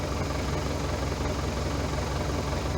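An Ursus C-4011 tractor's diesel engine with a Lucas CAV DPA injection pump idles steadily with a low, even rumble and a constant mechanical hum, close and continuous with no voices.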